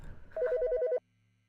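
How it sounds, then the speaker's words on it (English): A phone in the video game Autopsy Simulator gives one short electronic trill, a rapid warbling burst close and clear after a brief thud, then silence with a faint low hum. "The fucking phone."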